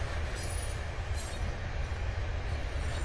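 An SD70 locomotive and its train in Train Simulator 2016 rumble past on Sherman Hill as a steady, loud, close roar of wheels and rail noise, with faint high squeals.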